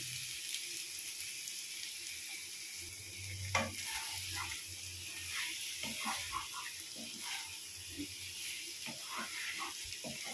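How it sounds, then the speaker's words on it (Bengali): Eggs are stirred in a frying pan with ground cashew paste added for a Bengali egg korma, a faint steady sizzle with scattered scraping and stirring clicks, quiet and close. "ডিমগুলোকে আমি 2 মিনিট এইভাবে নাড়াচাড়া করে নেব"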